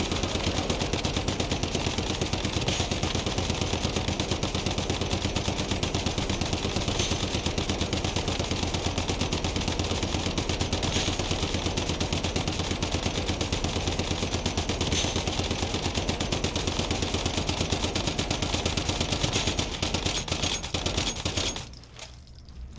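A SCAR rifle fitted with mods fires in Once Human as a dense, continuous stream of rapid shots lasting about twenty seconds, loud and steady, before cutting off near the end.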